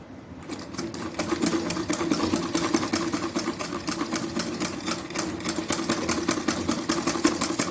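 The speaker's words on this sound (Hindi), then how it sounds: "ऐसे ही धीरे धीरे इस पे सिलाई लगा लेनी है चारों तरफ" Sewing machine stitching a neckline onto a floral print midi dress, running steadily and close with a continuous rapid mechanical whir and needle chatter throughout, with no talking.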